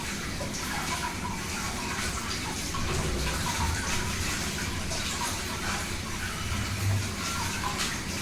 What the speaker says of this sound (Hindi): मैं साग भी धो लेती हूँ, देखिए साग धोते हुए